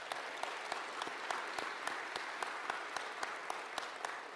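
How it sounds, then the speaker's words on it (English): Audience applause at the 2024 Macon-Bibb State of the Community event, a dense, continuous crowd clapping with distinct nearby claps standing out, steady throughout. "Let's give them a round of applause."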